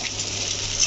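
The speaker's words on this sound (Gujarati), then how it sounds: "અને હવે આપણે આ રીતે સરસ મિક્સ કરી દઈશું." A spoon stirs oil-coated bottle gourd in a pan, giving a brief, steady scraping and sizzling hiss, close and fairly loud.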